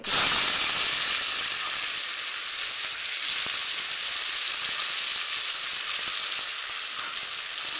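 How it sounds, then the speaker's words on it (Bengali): Chopped tomatoes drop into hot oil with cardamom and cinnamon in a pan for stuffed pointed gourd, a loud hiss that bursts at once, then settles into a close, steady sizzle with light stirring and no speech. "এর উপর দিয়ে দেবো কেটে রাখা টমেটো।"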